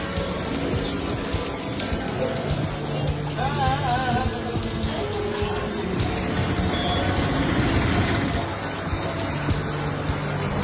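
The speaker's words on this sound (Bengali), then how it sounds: "এত পরিমাণ বৃষ্টি পড়ছে যে তুলনার বাইরে" Heavy rain pouring down steadily outdoors near a shopping mall, a loud broadband hiss with spattering drops lasting throughout, with faint vehicle and distant ambient noise mixed in.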